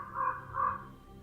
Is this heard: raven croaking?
yes